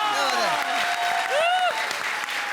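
A comedy show's studio audience bursts into loud, continuous applause, with sliding synthesized or musical tones and voices layered over the clapping.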